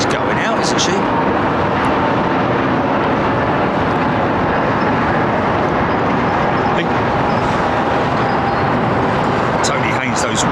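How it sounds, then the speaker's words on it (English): An Air Canada Boeing 777 in bandit livery departs London Heathrow's runway 09R, its loud, broad jet roar filling the air steadily overhead from start to finish. "It's nice to see that Air Canada 777 in the bandit livery."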